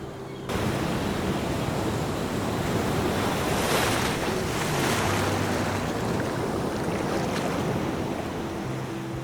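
Ocean waves wash steadily onto a Gulf of Mexico beach in Mississippi, a continuous broad roar of surf with gusts of wind buffeting the microphone and no voices.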